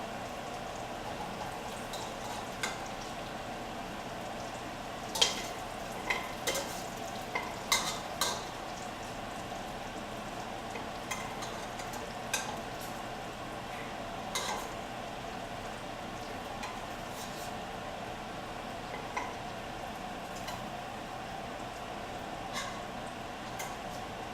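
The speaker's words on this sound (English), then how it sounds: "Get that close-up sizzle." Danish pork stew sizzling steadily in a pan at close range, with a constant frying crackle broken by a handful of sharper scraping knocks as a spoon stirs it.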